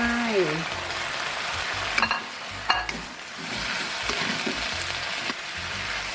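Vegetables stir-fried with Chinese pork sausage in a hot pan, a close crackling sizzle broken by several sharp spatula scrapes and knocks against the metal.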